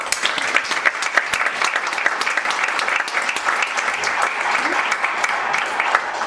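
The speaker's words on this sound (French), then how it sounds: "Allez, applaudissons-les tous bien fort." Audience applause at a 2023 campus theatre company stage show, a loud, dense burst of clapping with crisp individual claps standing out, sustained evenly throughout.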